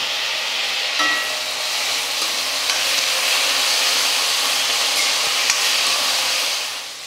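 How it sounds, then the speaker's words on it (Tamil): Onions and tomatoes sautéing with salt in a pan for chicken kulambu, a loud, steady, close frying hiss that holds evenly throughout with only faint occasional stirring clicks; no talking. "அப்போ தான் வெங்காயம் தக்காளியெல்லாம் வந்து கொஞ்சம் சீக்கிரமாக வதங்கி வரும்."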